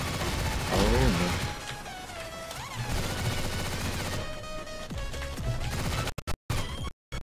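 TMP submachine gun fire rattles in the video game CrossFire, dense bursts of rapid shots with crashing impacts that run almost continuously, then break into choppy cut-offs near the end, with an excited voice underneath.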